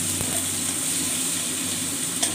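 Chopped tomato sizzles in hot oil in a pan while a mustard-paste parshe fish curry is being prepared; a steady, close frying hiss runs throughout, alone and without any talk.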